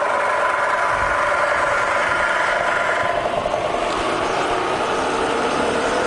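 A Bridgeport milling machine with a Vari speed head and 42-inch table runs steadily nearby, a continuous mechanical hum and whine with faint vibration and no talking.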